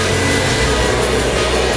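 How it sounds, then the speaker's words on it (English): A hair blow dryer runs steadily throughout at close range, giving a loud, continuous airy whoosh with a low motor hum, used while styling a pompadour haircut. "Turn on our blow dryer."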